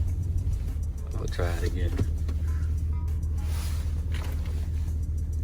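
Jeep Commander engine with a newly installed cold air intake, a steady low rumble heard from inside the vehicle while someone talks over it.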